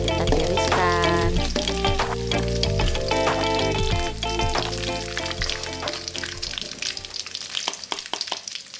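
Sliced tempeh frying in hot oil, a steady loud sizzle and crackle that runs without a break throughout, close up and with no voices.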